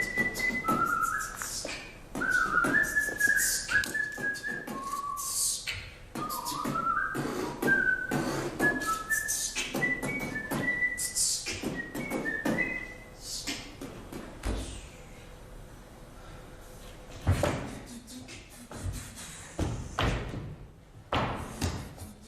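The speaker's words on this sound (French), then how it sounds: "Quelques sifflements." Several whistled melodic phrases ring out during an excerpt of the dance show Oüm, mixed with thumps, taps and slams from the performers, the whistling clear and fairly close before fading into scattered impacts.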